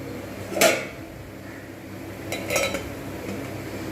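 A lid placed on a cooking pan of potol aloo posto, with two short metallic clatters, one early and one a couple of seconds later, over quiet kitchen background.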